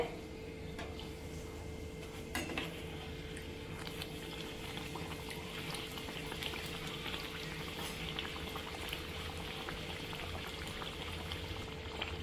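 Naan puri deep-frying in hot oil, a quiet steady bubbling sizzle with scattered small pops and ticks, continuous and fairly faint throughout.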